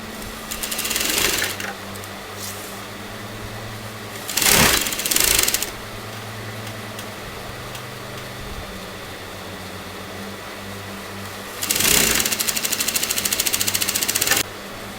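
A sewing machine stitches a raglan sleeve seam in three close, rapid bursts of whirring stitching. Each burst lasts a second or two, with quieter pauses between them.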